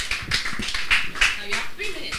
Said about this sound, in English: Please a round of applause as she comes up.